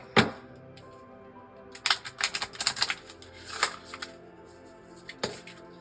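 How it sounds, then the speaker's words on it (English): A tarot card deck is shuffled by hand at close range, giving quiet riffling flutters and soft card slaps in irregular bursts, with no talking. "Now I'm going to shuffle this deck again"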